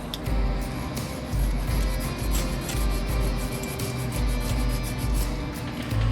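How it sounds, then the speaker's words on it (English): Steady close rasping as wooden parts of a 1:200 scale HMS Victory ship model are sanded by hand, continuous rubbing strokes with a slight rhythmic pulse, loud and alone without talk. "It's better to keep sanding a little bit at a time than to take too much off at once."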